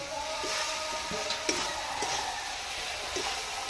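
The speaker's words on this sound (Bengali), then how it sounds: "দেখুন বন্ধুরা, মশলা থেকে তেল ছেড়ে বেরিয়ে এসছে। এই পর্যায়ে আমি আলুগুলো দিয়ে দিচ্ছি।" Potatoes tossed into hot spiced oil sizzle steadily while being stirred, with a continuous bright frying hiss and occasional soft scrapes of the spoon, close and fairly loud, no voices.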